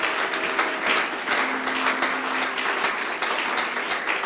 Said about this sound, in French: Si tu comprends ces choses, acclame le Seigneur des Seigneurs.